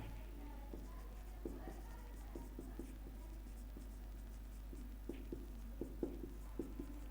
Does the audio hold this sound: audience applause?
no